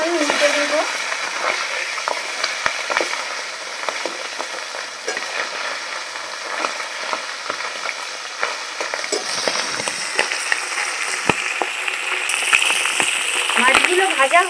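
Flipped tangra fish keep sizzling in salted oil in a wok, a continuous crackling hiss with occasional sharper pops and spatula scrapes, close and even throughout.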